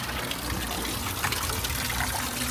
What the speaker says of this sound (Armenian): բնական աղբյուրից ջուր խմենք